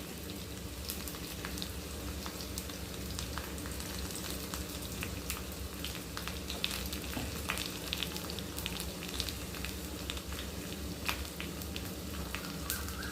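Steady sizzling and crackling of mustard seeds and curry leaves frying in hot oil, with scattered sharp pops over a dense hiss, no voices.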